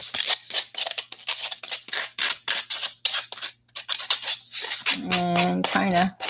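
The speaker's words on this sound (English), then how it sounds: "And take some sandpaper." Craft sticks are rubbed with sandpaper in a rapid series of short, close scratchy strokes, followed by someone speaking briefly at the end.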